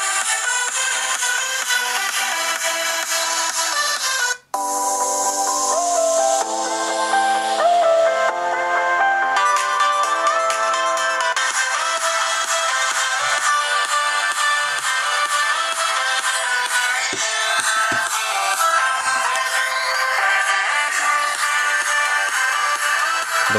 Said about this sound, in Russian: Давайте включим еще, попробуем другую песню.